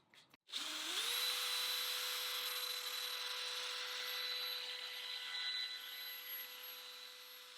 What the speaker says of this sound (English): After sanding, I buffed the guitar using polishing compounds applied with a foam rotary pad